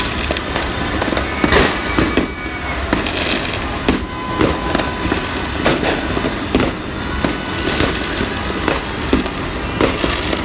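New Year fireworks and firecrackers burst continuously, a dense crackle of overlapping pops and sharp bangs with louder reports every second or so, fairly close and busy throughout, with no clear talk.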